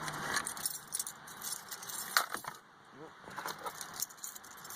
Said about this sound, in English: Sorry, I dropped the keys.